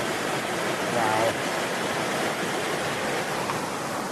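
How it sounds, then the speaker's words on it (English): A beautiful river flows along a bikepacking route on the Tour Divide, a steady broadband rush of water that stays constant and fairly loud throughout, with faint voice-like tones briefly underneath. "That is a beautiful river."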